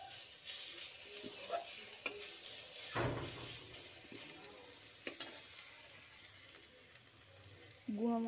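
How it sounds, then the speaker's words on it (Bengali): Ginger paste and browned garlic fry in a pan, a quiet continuous sizzle punctuated by sharp clinks and scrapes of a spoon stirring against the metal. "আদা রসুনটা ভালো করে ভেজে নেব।"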